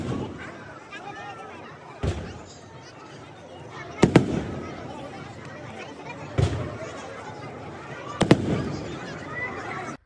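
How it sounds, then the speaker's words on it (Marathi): Fireworks display at a temple festival in Maharashtra celebrating a deity's wedding: loud bursts and bangs spaced a couple of seconds apart over a continuous crackling, rumbling background. "फटाक्यांशी अशी आतिषबाजी सुरू झाली"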